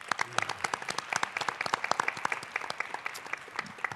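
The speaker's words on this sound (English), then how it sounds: "So give these kids a round of applause" Applause at a school district board of trustees meeting honoring students, a steady patter of many hands clapping with distinct individual claps, moderately distant and fairly quiet.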